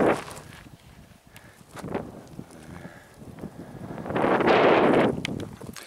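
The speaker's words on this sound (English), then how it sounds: "I'm facing this way because of the wind" Gusty wind in the open desert of Eureka Valley, Death Valley, buffeting the microphone in rough bursts, with a strong sustained roar near the end.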